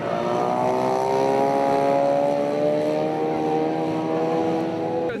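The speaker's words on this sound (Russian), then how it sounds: "Взрослые на воде стремительно стартуют, едва увидев взмах судейского флага, моторы ревут." Racing motorboat engines roaring during a start on the water, several loud whining motors with rising, sliding pitch, sustained and close throughout.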